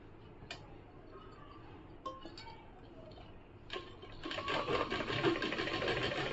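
A sewing machine stitches fabric for a kameez, starting with a few faint ticks and knocks, then running steadily into a continuous close mechanical whir for the last few seconds.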